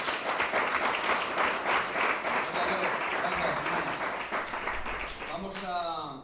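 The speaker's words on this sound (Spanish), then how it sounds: "le damos un aplauso de bienvenida" Welcoming applause from a church congregation fills the room, a thick sustained clatter of many hands lasting several seconds, with a voice rising over the tail end as it fades.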